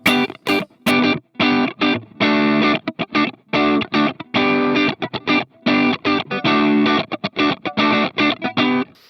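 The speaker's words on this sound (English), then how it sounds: "what I really like about tones like this, when it's on the edge of breakup" An electric guitar played with a tone on the edge of breakup, slightly gritty chords and notes picked in short bursts with gaps between, loud and close with no talking.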